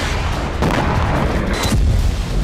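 Explosions from Israeli bombing in Lebanon, heard as a loud, dense rumble of booms and blasts that fills the whole stretch, with heavier surges partway through and no talk.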